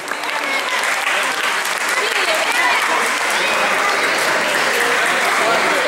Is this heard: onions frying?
no